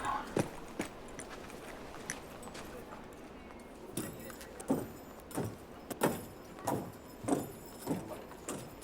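Horse hooves clip-clop on a frontier road in a Western, with sparse knocks at first, then a steady, fairly close rhythm of hoofbeats over quiet background sounds.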